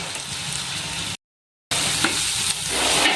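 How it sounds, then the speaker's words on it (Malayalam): Jackfruit seeds sautéing with turmeric and chilli powder in a pan give a steady close sizzle with scraping stirs, broken by a half-second gap of silence, then the frying resumes and grows slightly louder. "നല്ലപോലെ ഒന്ന് വഴറ്റിയെടുക്കാം"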